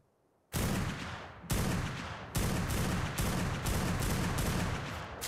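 Gunfire in the video game ARK: Primal Fear. After a moment of quiet, a series of loud, sharp shots crack out in uneven bursts, each one ringing out briefly before the next.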